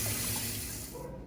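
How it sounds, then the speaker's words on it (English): Cold tap water runs steadily into a sink, rinsing drained blanched green beans in a home kitchen; a close, loud rushing stream that tapers off near the end. "Drain and rinse under cold running water."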